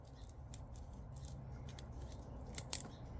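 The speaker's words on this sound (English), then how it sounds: "Cut the little end bits here." Garden shears snipping the small end bits off dug dahlia tubers, a run of soft, close cutting snips at an irregular pace, fairly quiet, with a slightly sharper snip near the end.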